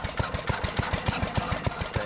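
An antique Giant Vac blower engine runs below full throttle, giving off a steady, rapid train of thudding beats like a knocking pulse, close and moderately loud throughout.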